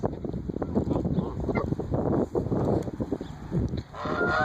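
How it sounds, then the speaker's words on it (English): A mean duck near the water gives loud, rough honking calls, several in quick succession, close to the microphone over wind noise and outdoor rumble. "Look at that duck."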